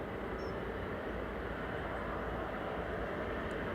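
A jet airliner taxiing out at Manchester Airport gives a steady, broad engine roar that holds at an even level throughout, with no talking over it.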